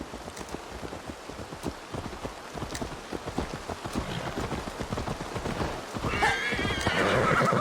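Horse hooves clip-clop in a steady rhythm through most of the stretch in Assassin's Creed Valhalla, with a neigh or whinny rising near the end over faint wind, with no talking.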